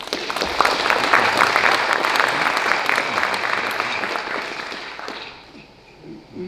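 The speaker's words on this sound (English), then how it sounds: "Let us express our gratitude with a resounding round of applause" Dense audience applause fills a 125th anniversary celebration at De Anza College, steady and loud before thinning out and fading near the end.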